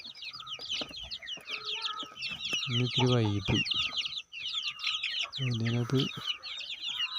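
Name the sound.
native chickens with crests clucking at feeding time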